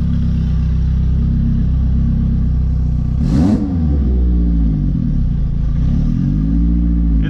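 A Volkswagen Jetta engine with a Haltech Elite 1500 install running close and loud: a constant deep rumbling idle, with a short rev midway that rises and settles back to idle, then a lighter rev later.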